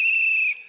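A steady, shrill whistle blown close and loud for most of a second in an indoor comedy show setting, cutting off abruptly near the end.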